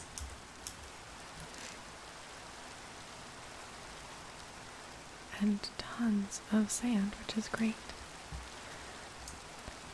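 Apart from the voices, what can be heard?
rain falling in video game Minecraft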